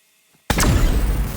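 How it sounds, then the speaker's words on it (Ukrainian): An EMP grenade detonates in the survival game SCUM: silence, then a sudden loud broadband blast that holds as a dense rumbling roar to the end, with no talking. "коли ми підриваємо EMP гранату"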